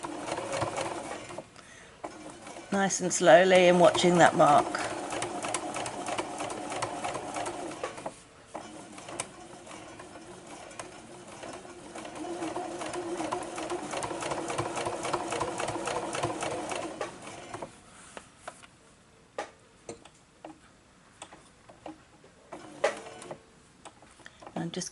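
A sewing machine stitches a small glasses case around tight curves with an extra layer underneath, running slowly in several stretches with short stops between them while a person talks over the whirring.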